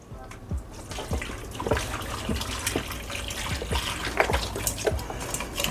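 Water and chicken stock splash and gurgle steadily into a cooking pot, a continuous pouring sound with small bubbling spikes throughout.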